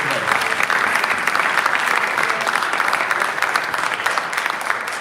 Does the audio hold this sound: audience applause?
yes